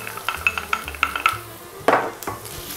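Tomato paste being stirred into bacon and onions in a frying pan: a run of close utensil scrapes and clinks against the pan, with one louder scraping stir near the end and faint sizzling beneath.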